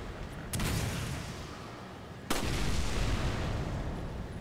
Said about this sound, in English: He's still throwing flash grenades.